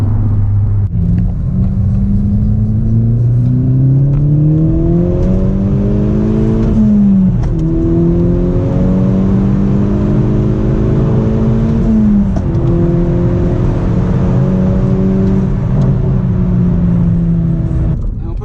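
An MK6 VW GTI with a freshly reinstalled used Clutch Masters FX350 clutch pulls hard from inside the cabin, the loud engine drone rising in pitch through one gear, dropping at each shift and climbing again, steady and close throughout.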